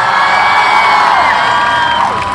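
A large crowd at a PTI political rally in Gujrat cheers and shouts in a dense, loud, sustained roar, with whistles and whoops riding over the sound.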